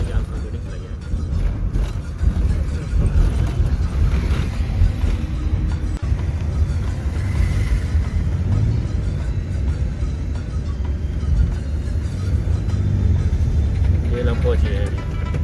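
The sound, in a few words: car being driven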